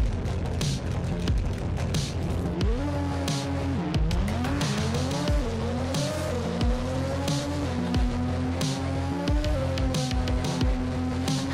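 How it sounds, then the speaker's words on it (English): Naturally aspirated 4-cylinder import drag car from the Bounty Drag Racing game makes a run: loud revving with rising pitch sweeps through repeated gear changes and some tire squeal, close and continuous. "Next up is the naturally aspirated 4-cylinder engine."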